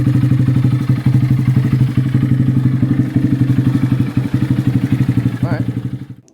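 A Honda Grom motorcycle engine runs close by with a fast, steady, pulsing putter and light clatter, holding at idle before cutting off at the end.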